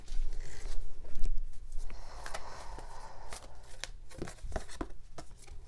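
Moonology oracle cards being shuffled by hand: soft papery riffling and rubbing with scattered sharper flicks and taps, close and fairly quiet, with no talking.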